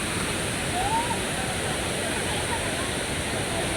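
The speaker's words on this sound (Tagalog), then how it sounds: "Tinod, Tinuran Falls." Tinuran Falls waterfall: a dense, steady roar of falling water that fills the whole moment at full loudness, broad and unchanging, with no break or pause.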